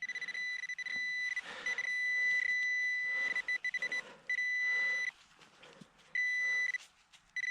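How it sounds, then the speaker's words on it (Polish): A steady high electronic tone from a metal detector in a field, sustained for several seconds with brief dropouts, and some faint rustling and handling noise underneath. "Obiecujący sygnał 72, 73, taki stały sygnał."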